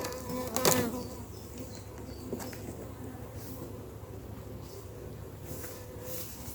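Honey bees buzzing around an opened hive with ten frames after a puff of smoke, a dense steady drone of many bees close by, with a brief clunk near the start.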